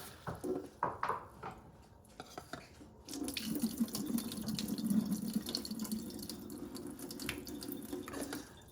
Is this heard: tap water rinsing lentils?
yes